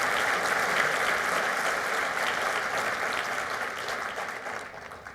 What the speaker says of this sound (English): Could you please give them a round of applause for me?